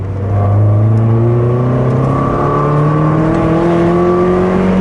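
Car engine fitted with modified exhaust and intake revving loudly and close, a smooth steady rise in pitch as it climbs through the revs from low down, heard alone without talk.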